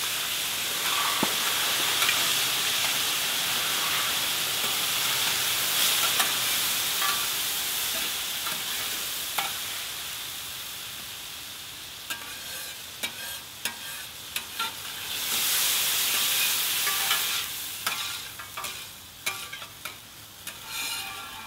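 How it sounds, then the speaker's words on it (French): A plancha being deglazed between batches of frying sweet potatoes with basil, giving a steady loud sizzling hiss that swells into bursts of steam and clattering scrapes, with no voices. "Il est important entre chaque cuisson de déglacer"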